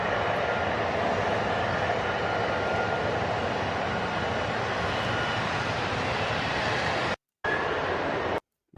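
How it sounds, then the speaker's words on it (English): An F-35 fighter jet hovers at an air show, a dense, steady jet roar filling the air for several seconds before two abrupt dropouts near the end. "F-35 doing the hover thing."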